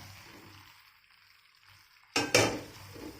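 Almond powder is stirred into thickened sugar syrup for a sweet coconut kozhukattai filling, giving a faint low simmer and then two sharp, close scraping clinks of a spoon against the pan. No one speaks.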